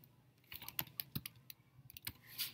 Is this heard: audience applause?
no